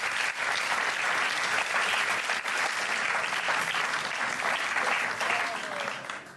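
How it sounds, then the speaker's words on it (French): Dense audience applause fills the room, steady and loud for the whole stretch, with faint crowd murmur mixed in and a slight fade near the end. "Mais bon, on l'applaudit quand même"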